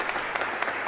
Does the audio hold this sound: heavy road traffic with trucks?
no